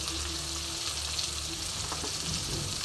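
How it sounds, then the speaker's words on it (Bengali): Radish greens fry in hot tempered oil with salt and turmeric, giving a dense, even, close sizzle that runs unbroken throughout. "এবার আমি ভালো করে সবজিটা ভেজে নেবো"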